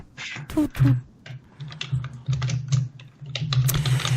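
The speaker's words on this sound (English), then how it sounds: "You have to bear with my elephant typing." Heavy, forceful typing on a computer keyboard, irregular clusters of loud close keystrokes over a steady low background hum, with no talking.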